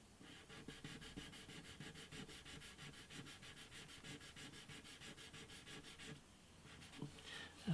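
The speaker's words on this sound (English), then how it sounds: "Might finger sand this, see what happens." A fingertip sands shellac on the top of an antique parlour guitar, producing quiet, rhythmic rubbing strokes in a steady back-and-forth pattern with no talk.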